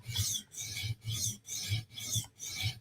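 Knife blade drawn across a sharpening stone to reduce the burr, six regular rasping strokes about half a second apart, each a crisp scrape with short gaps between, close up and without talk.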